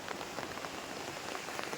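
Heavy rain pouring over green farm fields, a dense, even hiss of drops that stays constant and fairly loud throughout, with no voices.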